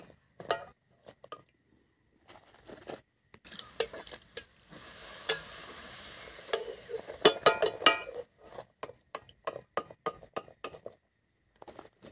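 Luchi, Bengali puffed flatbreads, frying in oil: soft bubbling and sizzling under frequent metal clinks and scrapes of a spatula against the pan, loud and close, with short pauses between bursts.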